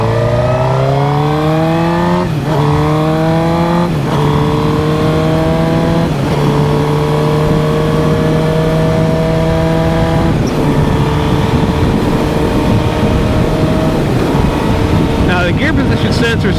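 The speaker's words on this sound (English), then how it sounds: "Definitely idles a little high though." A Suzuki GSX-R 1000 motorcycle engine runs loud and close with a steady, slightly high idle, punctuated by a few short revs that rise and settle back, with wind buffeting throughout.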